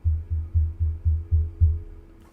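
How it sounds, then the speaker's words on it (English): A foot tapping nervously on the ground, seven soft, evenly spaced low thuds in a steady rhythm, close and fairly quiet, with no other sounds. "I have a nervous habit of sort of like tapping my foot on the ground."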